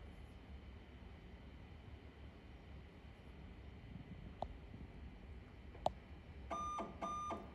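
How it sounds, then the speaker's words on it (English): Two short electronic beeps from a Fargo DTC4500e card printer sound close together near the end, after calibration, following a couple of faint clicks over a steady mechanical hum. "Once you hear the two beeps on the screen, it's going to say calibrate passed"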